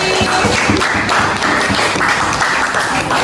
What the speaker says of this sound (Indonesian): Beri tepuk tangan untuk Denis